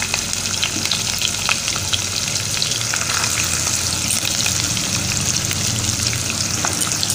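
Chopped onion and slit green chillies fry in hot oil for a potol ghonto with shrimp: a loud, constant sizzle close by, broken by small crackles and stirring scrapes, with no talk.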